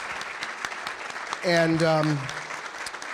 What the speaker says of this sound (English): join us in a warm round of applause for two senators